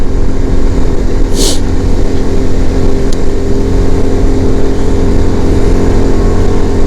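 Steady, loud motorcycle engine drone while riding through a forest at night in a national park between Situbondo and Banyuwangi, with one brief high-pitched chirp partway through.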